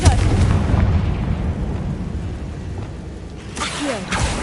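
A Confringo blasting spell goes off in the video game Hogwarts Legacy with a loud, heavy explosive boom and rumbling, noisy debris. A second burst flares near the end.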